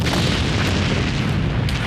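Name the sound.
second explosion at a chemical plant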